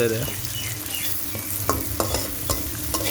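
Onions fry in oil with a continuous close sizzle while a utensil stirs, producing a few distinct scraping clicks toward the end; no one speaks.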